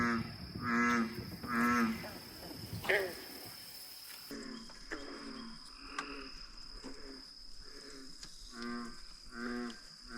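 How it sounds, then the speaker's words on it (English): Frogs calling from out in the middle of tall grass, a chorus of low, repeated croaks in rhythmic bursts. Crickets chirp behind them, and the calls carry from a moderate distance. "where are all these frogs at? You can hear them, but they're like out in the middle of this grass."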